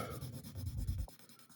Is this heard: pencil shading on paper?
yes